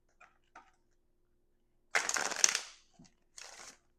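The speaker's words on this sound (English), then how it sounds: "just providing one more shuffle on the screen" A Wildwood Tarot deck being shuffled by hand, with a few soft riffles and card flutters in short separate bursts, the main one about half a second long, set in an otherwise quiet room.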